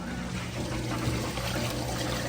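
An LG front load washer's drain pump pushes water out in a steady, continuous gush with a low mechanical hum underneath, close and even throughout with no talking.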